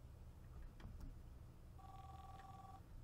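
A telephone rings in the horror game Popgoes, a steady electronic tone arriving after a few faint clicks, quiet against a low ambient hum with no speech.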